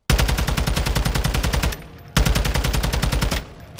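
An automatic rifle with a 30-round magazine fires in a video game: two long, rapid bursts of evenly spaced shots, loud and close, with a short pause between them and no talking.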